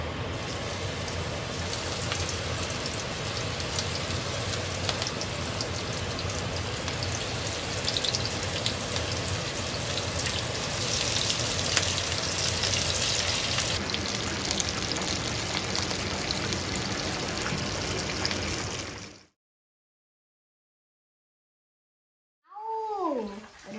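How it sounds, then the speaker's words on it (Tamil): Chicken lollipops sizzle in hot oil with a steady, dense hiss that runs unbroken for about nineteen seconds. Silence follows, then brief higher sounds at the end. "இப்போ நம்ம ஃப்ரை பண்ணலாம்"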